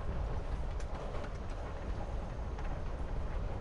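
Steady low rumble of a train rolling along the tracks in Life is Strange: Before the Storm, a continuous in-game interior drone with faint rhythmic clatter, heard alone with no talk.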